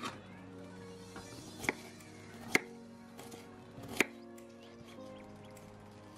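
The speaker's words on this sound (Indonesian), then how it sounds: "kita iris bawang merah" Shallots being sliced with a knife on a cutting board, a few sharp separate knocks spaced about a second apart over a low steady background hum.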